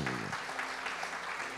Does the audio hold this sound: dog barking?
no